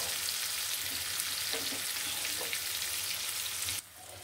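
Fish shallow-frying in a pan, a dense continuous sizzle with a few faint clinks, then the hiss drops away abruptly near the end.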